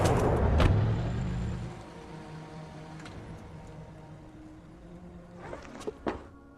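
A car arrives in a film scene with a low engine rumble that starts loud and fades to a steady idle, followed by a few sharp clunks and thuds near the end.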